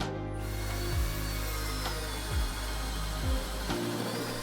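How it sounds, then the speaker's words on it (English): A DS18DEX cordless drill whirs steadily up close, drilling access holes for wires, its motor pitch dipping several times as the bit bites into material, then winding down at the end. "to drill some access holes for wires"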